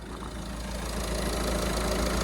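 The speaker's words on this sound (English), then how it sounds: "Very, very quiet engine." A crash-damaged Citroën Berlingo van idles with a steady low engine hum and a faint regular knock, close by and even in level, with no talking over it.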